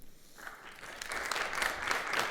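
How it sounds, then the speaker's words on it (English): An audience at a Columbia cryptoeconomics workshop applauds the first speaker, with sparse clapping building into a fuller, steady round. "Round of applause, please."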